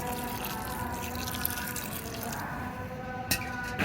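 Water is poured onto the soil over a planted mango seed in summer, a steady close splashing and trickling that runs throughout with no voices.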